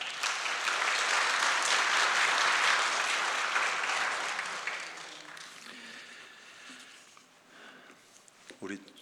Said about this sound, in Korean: 우리 목사님 나오실 때 크게 박수하며 환영하겠습니다